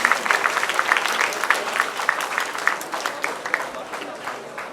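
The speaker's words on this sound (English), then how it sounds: "A big round of applause to them." A Diwali festival gathering breaks into applause for a team receiving a certificate, crowd clapping with distinct individual claps audible in a steady rhythm that gradually tapers off.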